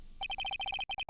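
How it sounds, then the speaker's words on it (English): A cell phone rings in the Phoenix Wright: Ace Attorney Justice For All video game. It gives a fast electronic ringtone of rapid repeated beeps in short bursts, with no talk. "All of a sudden, the phone began to ring."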